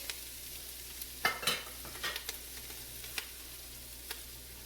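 Shredded cabbage stirred in a frying pan, with a soft steady sizzle under a few sharp scraping stirs and light clinks, close and fairly quiet, with no talking.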